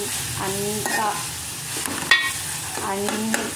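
Curry being stirred in a frying pan, a continuous sizzle under scattered spoon scrapes and a few sharp clinks against the pan, close and fairly loud.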